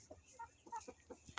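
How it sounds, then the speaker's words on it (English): Chickens inside a backyard coop thirty feet long cluck softly in short, irregular bursts, faint and close, with no talking. "this is our chicken coop"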